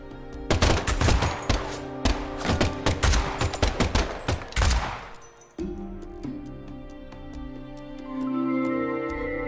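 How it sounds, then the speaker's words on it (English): Rapid bursts of gunfire from the video game Deadly Premonition 2, loud and dense for about five seconds, then giving way to a quieter sustained musical tone. "the last gunshot we heard sounded ominous, Zach"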